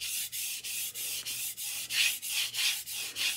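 A knife blade is stroked back and forth on a wet whetstone, giving a steady series of about a dozen close, hissing, scraping passes with short gaps between them, no voices.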